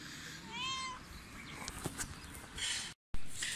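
A cat at an animal shelter meows plaintively a few times, close and fairly loud, amid faint rustling and soft handling noises.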